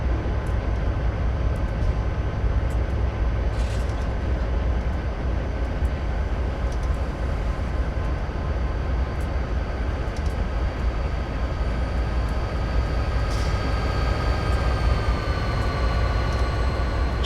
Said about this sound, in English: Just ignore that train driving through that car.